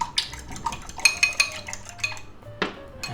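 Two eggs beaten in a bowl: a quick series of light tapping clinks and whisking strikes against the bowl, fairly close, ending with a sharper knock, with no talk.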